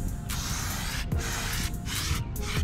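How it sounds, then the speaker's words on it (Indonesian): Lubricant sprayed onto a dirt bike chain in several hissing bursts, each a close, breathy spray separated by short pauses, with no speech. "Nyemprot rantai nih."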